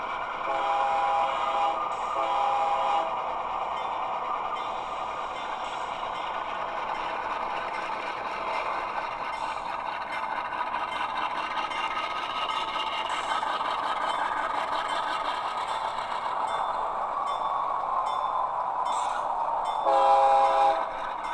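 A model train layout fitted with a scale sound system speaker plays a continuous rumbling train sound for about twenty seconds, with short horn blasts near the start and again near the end, at steady moderate loudness and with no talk.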